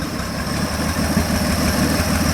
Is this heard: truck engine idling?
yes